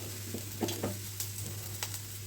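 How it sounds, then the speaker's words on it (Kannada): Chillies roast in oil in a pan on a gas stove, with a soft steady sizzle and a few scattered stirring scrapes and taps over a constant low hum. "ಹಾಕಿ ಮೆಣಸಿನ್ಕಾಯಿ ಹುರ್ಕೊಳ್ಳು."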